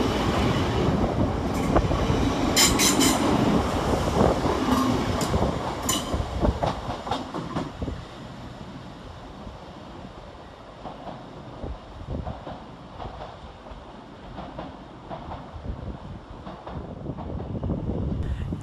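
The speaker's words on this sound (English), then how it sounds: "coming in the opposite direction is 802-204, working 9 by 30 for Transpennine Express from Newcastle to Liverpool Lime" A TransPennine Express Class 802 train, unit 802-204, arrives at Edge Hill station in Liverpool on its run from Newcastle to Liverpool Lime Street. Loud clattering wheel noise over rail joints and some wind buffeting, then a quieter rolling rumble as it slows.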